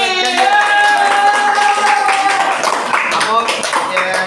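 A group of people at a special school's New Year celebration clapping in applause for a teacher, steady close handclaps running throughout, mixed with overlapping voices and some music.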